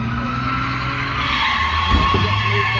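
Cars drifting at Archerfield, a steady loud engine drone with rising tire skid noise building near the end, close by and continuous.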